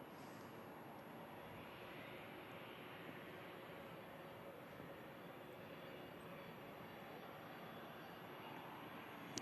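A Turkish Airlines jet climbs out after takeoff from Manchester Airport in thick fog, giving a steady, distant, broad roar that holds evenly throughout with no voices.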